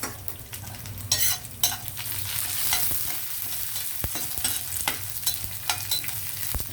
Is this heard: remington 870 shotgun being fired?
no